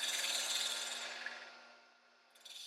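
A lathe tool taking a light finishing pass across the top of a turned burl wood lidded box, a close, even scraping hiss that fades out, then briefly returns.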